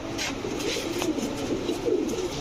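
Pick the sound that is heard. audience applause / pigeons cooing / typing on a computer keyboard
pigeons cooing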